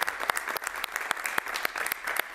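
A crowd applauds in a steady, dense burst of clapping that runs without pause for a couple of seconds, fairly close and even in loudness.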